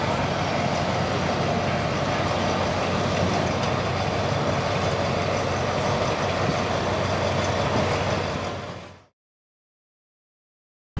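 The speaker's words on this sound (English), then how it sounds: "we were planning on riding this train, but yeah, I'll have to find out how often it runs because it is a very old train" A very old train on the Death Railway in Kanchanaburi, Thailand, gives a steady, loud, dense rumble and roar that continues for about nine seconds and then cuts to silence.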